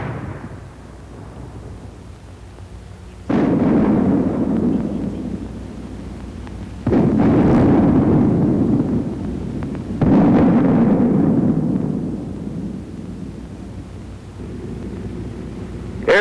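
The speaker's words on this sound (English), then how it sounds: "The mortar also fires smoke shell." Army mortars firing smoke shells in a wartime infantry training film: three heavy, booming blasts a few seconds apart, each followed by a long rumbling roar that slowly fades over low background noise.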